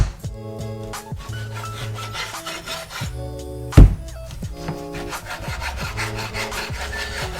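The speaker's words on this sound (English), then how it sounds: "I'm just going to take a meat cleaver now, cut this up into the right size chunks for our stew" A meat cleaver cuts beef into stew chunks on a board with steady back-and-forth rasping strokes and one sharp heavy chop near the middle.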